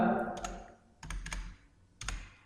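Rapid clicks on a computer keyboard as an Excel formula is entered, short clusters of near, crisp keystrokes separated by brief pauses, with no speech over them.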